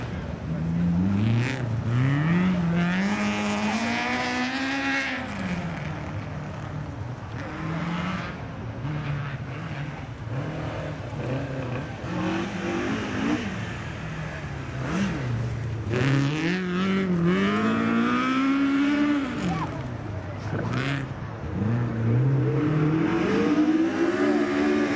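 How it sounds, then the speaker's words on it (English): A Ford Escort BDA rally car at a night classic rally stage in Coffs Harbour, its engine revving hard and rising in pitch through the gears as it passes, then again in a second loud pass, with some talk underneath. "Let's listen to the BDA Escort."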